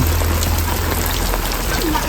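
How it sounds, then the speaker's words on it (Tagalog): Heavy rain falls in a steady, dense hiss that fills the whole stretch without a break, with a low rumble underneath and no voices. "Basta malakas ang ulan."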